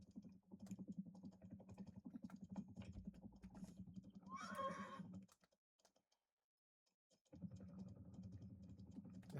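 A horse in a sandbox video game lets out a whinny, a bright burst of repeated high neighing in the middle of the clip, set among dense game sounds and clacking keyboard typing, followed by a short silence.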